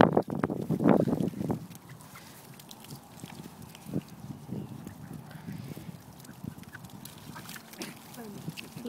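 Ducks and swans squabble over food at a lake, Lake Huron near Ann Arbor: scattered honks and quacks, loudest in a brief early burst, then intermittent squawks under a person talking.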